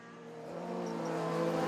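At Lakeside Park Raceway, a 1000cc sports racing car runs close behind a 2-litre Ford Cosworth-powered rival, the engines' tone rising and swelling steadily louder as the cars approach in a short, continuous pass.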